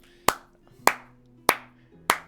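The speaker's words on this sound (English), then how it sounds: "Can we get a round of applause?" Four sharp, evenly spaced single claps ring out alone at close range, each crisp hit decaying quickly, more like a slow sarcastic clap than a crowd's applause.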